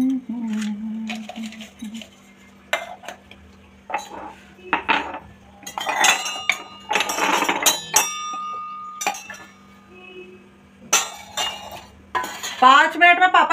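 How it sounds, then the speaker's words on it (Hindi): Dishes being washed in a home kitchen: steel utensils, cutlery and pots clink and clatter repeatedly at close range, with running water and someone talking at times. "मैं यहाँ पे बर्तन क्लीन कर लूँ।"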